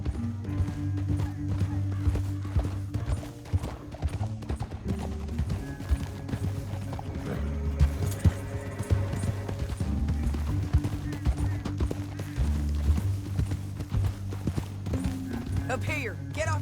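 Horse hooves clip-clop steadily in the Red Dead Redemption 2 video game, mixed under a continuous low music bed and occasional voices.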